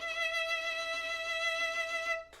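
A sustained bowed violin note with fast, shaky, uncontrolled vibrato, the pitch trembling rapidly throughout, close and steady before cutting off abruptly, with no talking.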